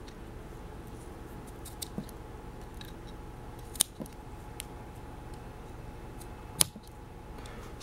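Small Victorinox Swiss Army Swiss Champ scissors snip through 550 mil-spec paracord, a few quiet, sharp clicks and cuts scattered over a faint, hissy background.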